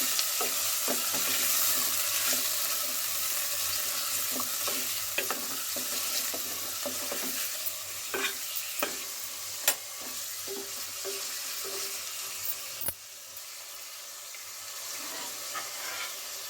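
Chicken pieces are stirred and fried in oil for chicken korma, a continuous close sizzle with repeated scraping and knocking of a spoon, easing toward the end.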